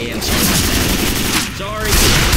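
Gunfire in the zombie video game Left 4 Dead 2 at a dark carnival, a dense, loud burst of rapid shots mixed with game noise and voices talking over it.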